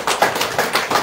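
Rhythmic hand clapping from a church congregation during a revival service, steady beats roughly every third of a second, close and fairly loud with no voices.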